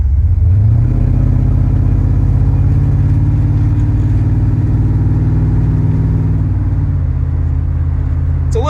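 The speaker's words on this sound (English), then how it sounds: "It's a little more noisy than it would be stock due to that shortened exhaust" 1989 GMC Sierra SLE C3500 dually with a 502ci V8 and shortened exhaust, heard while driving: a loud, deep, continuous engine rumble that climbs briefly at the start and then holds steady, close up and alone.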